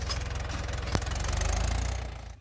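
A tractor engine chugs in a steady, rapid diesel rhythm close by in a farm field, with a single sharp knock partway through.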